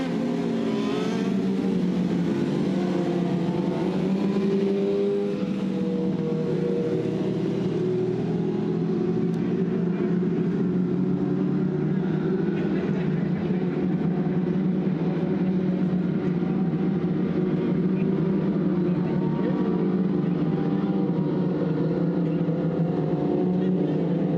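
Dirt track race cars circle a Southern Ontario Motor Speedway lap under caution, a steady, loud blend of engines droning and rumbling throughout, with a commentator's voice over the racket.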